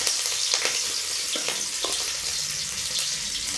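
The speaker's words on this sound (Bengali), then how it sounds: "এই আদা কুচোটা আমি তেলের উপরে প্রথম দেব" Chopped ginger frying in hot oil, a steady close sizzle with a few small crackles and pops throughout.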